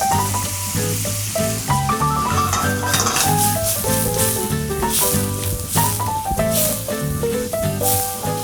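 Butter and shrimp sizzle loudly in a hot frying pan for a butter shrimp casserole, with a steady close crackle throughout, broken by occasional scraping and stirring.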